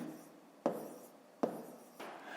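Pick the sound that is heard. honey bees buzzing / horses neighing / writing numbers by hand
writing numbers by hand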